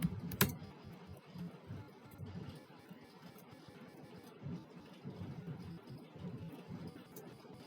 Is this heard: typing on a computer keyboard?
yes